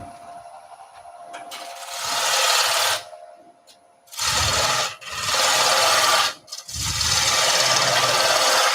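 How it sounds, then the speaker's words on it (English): A bowl gouge cutting into spinning wood on a lathe while hogging out material for a bar table, loud hissing scrapes in long passes broken by short pauses. "So I'm going to go in with a bowl gouge."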